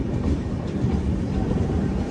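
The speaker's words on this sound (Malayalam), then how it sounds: "വെസ്റ്റ് ബംഗാളിലെ ഈ ട്രെയിനിൻ്റെ ആദ്യത്തെ സ്റ്റോപ്പായ ഖടഗ്പൂരിലേക്ക് ഇതാ എത്തിക്കൊണ്ടിരിക്കുകയാണ്" An express train rolls into Kharagpur station in West Bengal, a brief, steady low rumble of wheels and cars with no clear horn.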